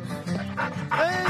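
A dog lets out short, yappy barks mixed with quick panting breaths, close by and fairly loud, in a few bursts.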